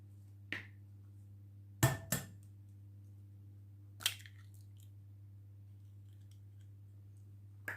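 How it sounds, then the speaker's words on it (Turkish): Eggs are cracked for a sugar-free, flour-free tahini cake batter, a few sharp, quiet clicks and taps spaced apart over a steady low hum. "Öncelikle yumurtalarımızı kıralım."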